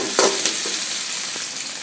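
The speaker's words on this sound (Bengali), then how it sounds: "পেঁয়াজগুলো একটু ভেজে নিব।" Onions frying in hot oil with garam masala and bay leaves for a chicken and potato curry, a steady sizzle with a few sharp stirring scrapes of the spoon against the pan.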